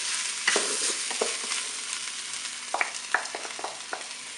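Rinsed, drained rice stirred into beef meatballs in a Cookeo multicooker, a soft sizzle under scattered scraping and clinking of a spoon against the pot, close and steady, no speech.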